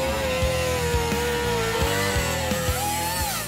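A power tool cuts along a marked line on the fender of a 1948 Ford F2 truck, a steady high whine with regular rhythmic pulses, loud and close, with no talking.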